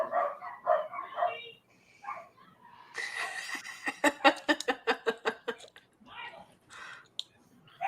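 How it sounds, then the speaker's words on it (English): Dogs bark in a quick run of sharp, fairly close yaps, about a dozen rapid barks in a row, with a few clicks and a voice faintly heard before them. "dogs"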